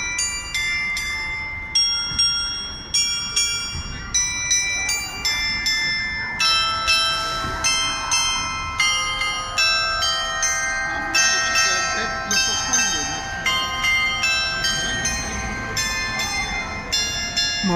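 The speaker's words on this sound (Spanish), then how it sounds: "Las campanas avisan que es mediodía." Church bells ring out noon near the Hotel Palace in Madrid, with repeated clear, resonant strikes across a city backdrop with a steady low hum of traffic.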